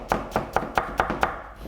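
A knife slices radish into thin strips on a cutting board for kimchi, six crisp, evenly spaced chops close by, then a brief pause, no talking.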